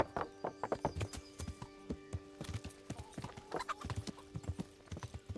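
Horse hooves clip-clop steadily on hard ground in the medieval game Kingdom Come: Deliverance, a brisk repeating rhythm of close, distinct strikes with an occasional faint whinny behind.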